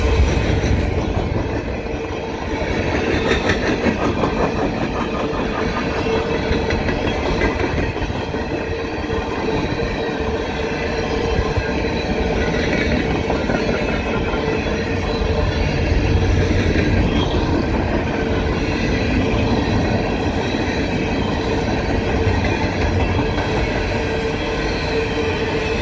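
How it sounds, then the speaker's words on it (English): A CSX empty coal freight train passing westbound in a snowstorm on the old B&O mainline, with a continuous loud rumble and rhythmic wheel clatter rolling close by the whole time. "Westbound, empty coal in the snow."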